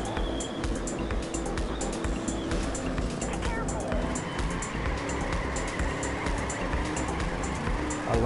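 Car engine driving in Trackmania Turbo, a video game, a steady droning motor with road and drift noise running throughout, voices talking over it.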